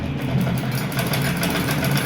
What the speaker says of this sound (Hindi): ये आसन तक इसको आपने सिलाई लगा देनी है